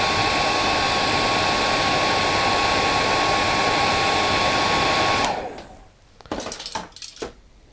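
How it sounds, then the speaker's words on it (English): A hairdryer roars steadily and close while blowing on organza fibers of a CDC spinner dry fly, then switches off, followed by a few light clinks of small tools. "Now you can use the hairdryer, as you can see."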